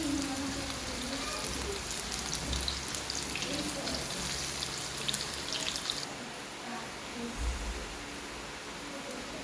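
Garlic and onion sizzle in a pan as a soft, continuous hiss, fairly faint and steady, with a little background handling noise.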